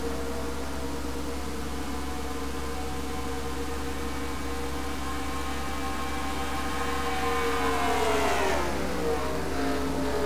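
Race cars lapping the Meadowlands circuit in an intense late-race battle, a steady loud engine drone with a rising pitch sweep as a car closes in and passes near the end.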